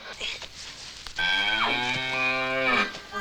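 A cow lets out a single long, loud moo in the 1981 horror film The Pit, rising and holding steady before trailing off, heard close and clear with no talk over it.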